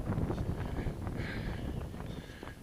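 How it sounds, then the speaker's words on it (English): Strong wind buffeting the microphone in loud rumbling gusts, with faint rustling in the background and no voices. "Suffice to say, it's a bit windy"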